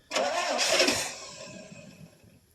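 A 1984 Chevrolet Suburban engine cold-starts after three years sitting, a burst of cranking that catches and settles into a fading idle, close and fairly loud with no talking.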